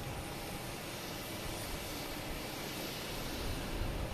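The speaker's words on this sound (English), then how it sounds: "Oh, another Cape Air taking off here." A Cape Air plane takes off at Boston Logan Airport, its engines a steady broadband roar that holds even and fairly distant, swelling slightly toward the end.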